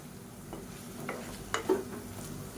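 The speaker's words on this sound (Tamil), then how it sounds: "இப்போ நல்லா இதில் பரட்டி விட்டுக்கலாம்." Brinjal being stirred in a pan while cooking for biryani, soft scraping and stirring strokes with a faint sizzle beneath, a few louder clinks near the end, no talk.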